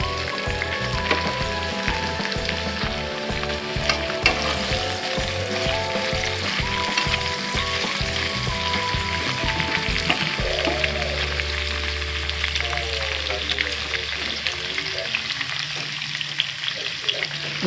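Beef hits a hot pan of garlic and onion fried golden, giving a loud sizzle that starts with a rhythmic clatter of stirring and then settles into a steady, close crackling fry.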